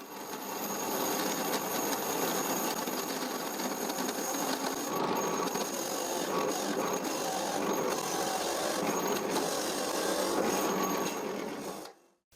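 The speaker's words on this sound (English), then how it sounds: "I cannot keep drilling, because the top of the hole saw bumps against the post." A drill with a hole saw bores into a treated wooden post in one continuous, dense grinding roar lasting about twelve seconds before cutting off abruptly.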